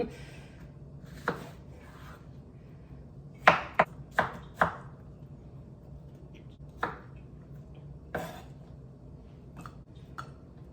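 Green onion is chopped with a knife on a cutting board in a home kitchen, giving sharp, close, irregular taps, including a quick cluster of four chops, separated by quiet pauses.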